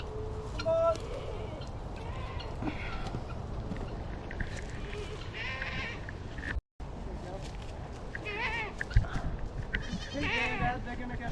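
Goats bleat several times in an outdoor farm setting, with rustling and movement throughout and a brief dropout midway.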